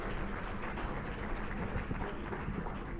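Steady, dense clapping from an audience welcoming Chicago's mayor, Rahm Emanuel, at a public gathering; the applause runs evenly throughout at moderate loudness without any talk over it.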